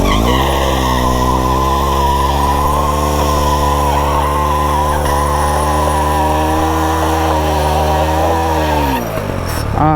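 A motorcycle tyre locked under braking gives a loud, sustained tyre squeal with steady engine drone for about nine seconds, then cuts off abruptly into a brief scuffle.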